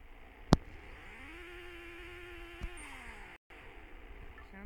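A car engine revs in the Pixel Car Racer mobile racing game, a thin synthetic tone rising and holding steady, with a sharp click near the start and a brief dropout partway through.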